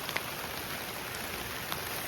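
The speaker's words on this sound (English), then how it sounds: "It's really coming down. The rain's actually getting through my rain poncho." Heavy rain pours down in a dense, steady hiss on a vegetable garden, with occasional louder drops pattering nearby.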